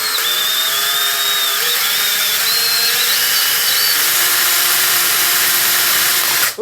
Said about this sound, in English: This stuff is kind of hard to drill, by the way.